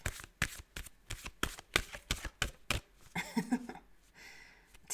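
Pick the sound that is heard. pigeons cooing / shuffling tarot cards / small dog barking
shuffling tarot cards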